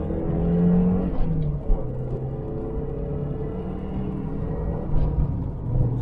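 A Lancia Delta HF Integrale 8V engine in a steady, throaty rumble as the car drives and shifts gear, the revs easing and rising again with small bumps between shifts, heard from inside at close range.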